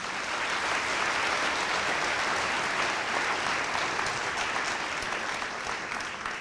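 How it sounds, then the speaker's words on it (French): An audience at a plenary event at the Faculty of Law in Nantes applauds a student film crew, with dense, steady clapping that keeps an even loudness throughout. "je vous demande de les applaudir"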